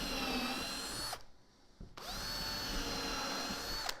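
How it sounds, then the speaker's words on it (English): Power drill boring holes into wood, two loud sustained whirring bursts separated by a short pause, a few small knocks between, no talk. "Drill some holes."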